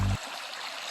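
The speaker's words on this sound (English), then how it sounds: "There's a small creek here." A small creek flows along a forest hiking trail in Lake Superior Provincial Park, a steady soft wash of moving water heard close and alone after a brief low thump at the start.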